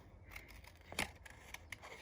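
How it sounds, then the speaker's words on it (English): A good pair of scissors snips around a printed paper flower during careful craft cutting. A few crisp, quiet cuts come at an uneven pace, with the loudest near the middle, against a soft room background and no talking. "with a good pair of scissors and just a little bit of patience to whiz around this"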